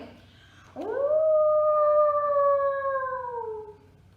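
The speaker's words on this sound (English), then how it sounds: "It's the howl of the wolf pup's father." A single long wolf howl from a wolf pup's father rises sharply, then holds a steady mournful tone before fading out, clear and prominent against quiet background.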